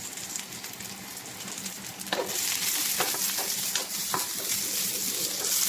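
Red onion and aromatics sautéing in a pan for a beef-rib mung bean dish, a soft sizzle that swells loudly midway as ingredients hit the oil, with intermittent stirring scrapes over steady frying hiss.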